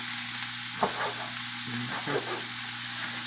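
Beef browning in a hot pan as a base for soup, a steady sizzle with a few stirring scrapes and clinks of a utensil, close up, no talking.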